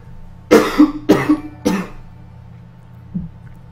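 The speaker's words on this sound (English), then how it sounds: "I would really like to stop coughing" Three harsh coughs in quick succession, close and fairly loud, followed by a pause and a faint throat sound.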